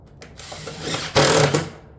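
A power tool fastening ridge vent cap shingles during a roof install gives a short, close whir that rises in the middle and then cuts off.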